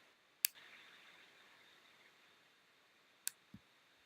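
A computer mouse clicks a few times while someone works in Android Studio: two sharp, faint clicks several seconds apart, plus a soft low thump, over quiet room hiss.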